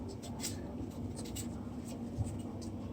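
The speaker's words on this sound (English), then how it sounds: "Here I have 2 Irish potatoes that I'm peeling" Two Irish potatoes are peeled by hand, giving a run of soft, close scraping strokes in an even rhythm over a quiet kitchen background.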